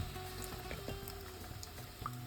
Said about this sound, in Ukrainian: І обсмажуємо до гарної золотистої скориночки